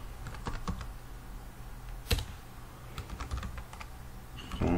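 Fingers typing on a computer keyboard into a spreadsheet, a quick run of close, crisp key clicks with short pauses and one louder keystroke midway.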